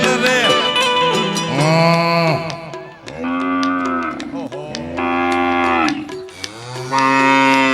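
Cattle and a calf mooing close by, with several long, loud, tonal calls one after another and short gaps between them. There is no talk in the clip.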